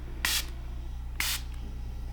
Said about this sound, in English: Love this setting spray.